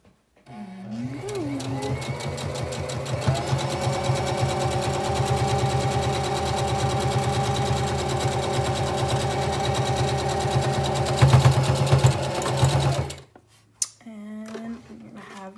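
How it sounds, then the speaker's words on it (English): Sewing machine stitching a fabric seam for a face mask, a steady fast close whirring run lasting several seconds that stops abruptly, with a voice heard briefly around it. "A little back stitch, and then I just double check up here to make sure it's good."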